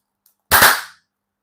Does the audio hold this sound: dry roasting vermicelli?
no